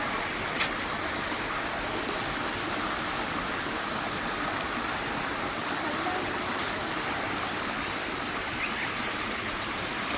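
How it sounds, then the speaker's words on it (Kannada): Water flows steadily in a stream at a zoo, a continuous even rush with no breaks, fairly close and alone without talk. "ತುಂಬ ಚೆನ್ನಾಗಿ ನೀರು ಕೂಡ ಹರಿತಾ ಇದೆ"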